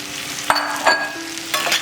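Fried crabs are stirred into sizzling masala, with three scraping strokes of a spoon over a constant crackling fry, close up and loud.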